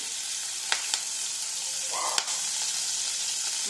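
Fried fish and shrimp sizzle in a pan with an even, close frying hiss, broken by a few sharp clicks of a utensil and a short watery bubble midway.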